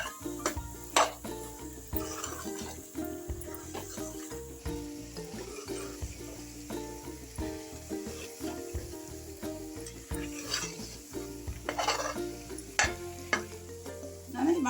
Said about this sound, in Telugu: మసాలా అన్నీ వేయించుకున్నాయి కదా, 1 నిమిషం ఫ్రై చేస్తే చాలు